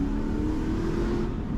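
Close, continuous engine drone from a 380-horsepower Aston Martin V8 Vantage revving on the move, holding a steady pitch throughout.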